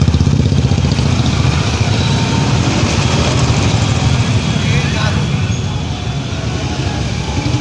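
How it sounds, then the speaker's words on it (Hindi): Motorcycles riding in a 75 km political bike rally, a dense continuous rumble of many engines passing close by, with voices talking over the steady noise. "75 किलोमीटर लंबी बाइक यात्रा देख सकते हैं।"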